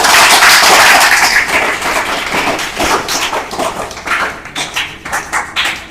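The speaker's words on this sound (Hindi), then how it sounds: "जोरदार तालियां भैया के लिए।" Schoolchildren give a student a loud round of applause at a school celebration. The clapping starts as a dense burst, then thins into scattered individual claps that fade out.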